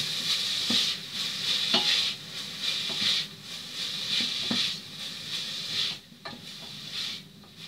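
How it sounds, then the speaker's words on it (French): Carrots and onions sautéing in a pan for vegan Cantonese fried rice, a steady close sizzle with repeated scraping stirs of a utensil through the vegetables, no voices. "on va les faire revenir un petit peu avec les oignons, qu'elles prennent le goût"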